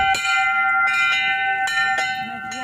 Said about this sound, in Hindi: यहाँ पे बड़ा सा घंटी लगी है